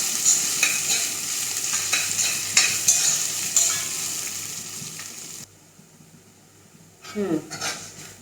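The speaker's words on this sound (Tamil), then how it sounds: "அடுப்பை சிம்மில் கூட வச்சுட்டு வதக்கிக்கணும்." Ginger sautés in a pan over a low flame for South Indian ginger chutney, with a steady soft sizzle and repeated spatula scrapes and taps, then a quieter pause before a few more stirring sounds.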